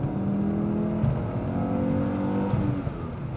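A Volvo C70 pulls hard in fourth gear to overtake on a road, its engine note loud and rising steadily over rushing tyre and wind noise.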